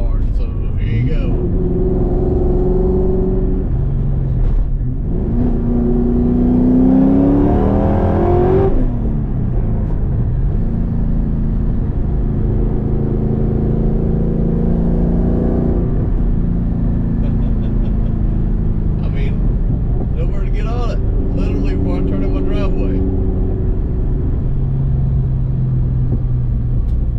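A Cobra car engine driven hard, rumbling and revving up through rising gears with repeated acceleration surges, steady and close, with a voice talking over it.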